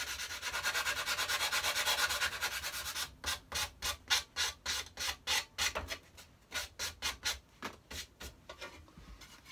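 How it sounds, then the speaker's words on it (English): A sanding block rubbed over wood to smooth off sharp edges, first a dense continuous scrubbing for about three seconds, then a steady run of separate back-and-forth strokes, close and fairly loud, with no talking. "And then I finish it off with the sanding block to get a nice smooth finish."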